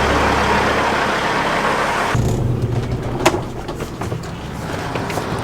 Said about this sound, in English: We're gonna leave this dumping and go take this truck down.